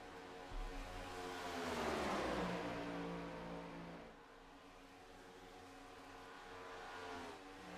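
Stock-style race cars roar at Talladega in a racing video game, a dense engine drone swelling as the pack sweeps close around two seconds, then thinning to a steadier hum.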